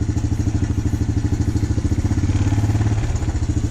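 A quad's engine idles with a steady, throbbing pulse, its revs climbing slightly as the handlebars turn fully right against a tight throttle cable; the close, loud chugging continues alone.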